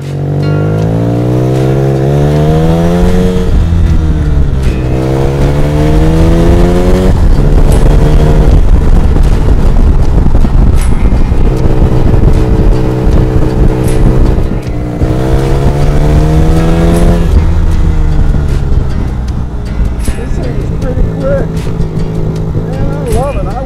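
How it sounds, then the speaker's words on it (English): 1975 Suzuki RE5 motorcycle with a Wankel rotary engine riding, loud and close, its engine note repeatedly rising through gears and falling, with wind noise over the microphone. "This Suzuki motorcycle, the RE5, is one in a million, and we're gonna take a look at it and take it for a ride"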